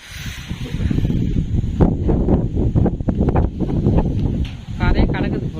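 Strong wind buffets the microphone by the sea before a storm, a loud, rough rumble under continuous talking in Tamil.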